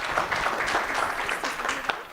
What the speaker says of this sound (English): A round of applause for Madam Anne,